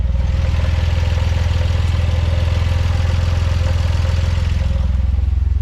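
A Nissan 300ZX with a turbo engine swap runs with its timing off and a loud lifter tick, giving a steady close-up idle with a rapid, even clatter ticking over the low engine drone throughout.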